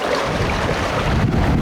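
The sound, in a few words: sailboat sailing downwind in 20-25 knot winds, small waves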